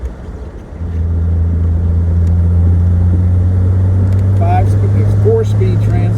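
A classic Jaguar XKE sports car with a 5-speed transmission pulls hard through third gear, a loud steady engine drone that rises after a short quiet start, with brief bits of speech near the end.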